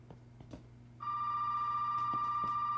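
A telephone rings in the Resident Evil 7 video game, a steady electronic ring that starts about a second in and holds loud and continuous over a low background hum.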